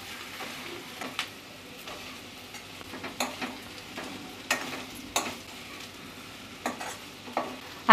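Okra stir-fried in a pan, a steady soft sizzle broken by repeated sharp scrapes and clicks of a spatula, roughly every second, close and moderately quiet with no voices.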